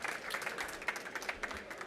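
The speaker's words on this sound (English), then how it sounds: "please give them a big round of applause" Steady audience applause fills the room, a dense wash of many hands clapping at a moderate, even level throughout.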